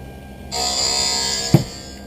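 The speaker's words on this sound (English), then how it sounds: "as soon as your left transitional anti-glare lens starts cutting, I'm going to continue working on the right" A lens edging machine starts cutting a Transitions anti-glare eyeglass lens, a steady high whirring grind that kicks in abruptly and holds, broken by a single sharp knock near the end, no talking.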